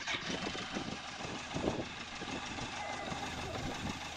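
A BMW K100 motorcycle engine idles on choke, a steady low mechanical running sound heard close and fairly quiet, with people talking nearby.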